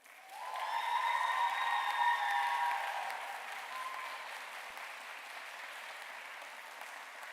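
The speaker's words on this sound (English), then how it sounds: "give them a big round of applause and thanks." Sustained applause from a crowd at a university MBA commencement ceremony, loudest in the first few seconds and then tapering to a steady, softer clapping that continues to the end.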